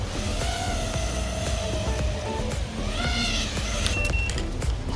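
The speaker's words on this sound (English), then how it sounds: "I'm going to bring it in for a landing" A Tero Q215 5-inch FPV quadcopter comes in to land, its motors whining in shifting pitched tones that rise and fall over a steady rush, fairly loud and close, with no talk.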